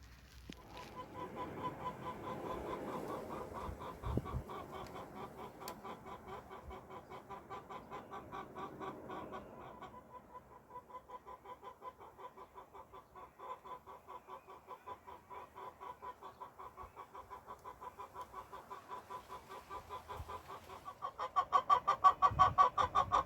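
A hen clucks steadily in soft, repetitive bursts, close by, rising into louder, more insistent clucking near the end.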